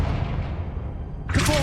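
A Confringo blasting spell in Hogwarts Legacy goes off as a sudden loud explosion burst after a rumbling low swell, sharp and close.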